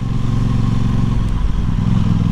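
A 2022 Aprilia Tuono 660 Factory naked motorcycle rides through a village at low speed in second gear, its engine a steady, loud, close low-pitched drone with a brief dip and light mechanical clatter.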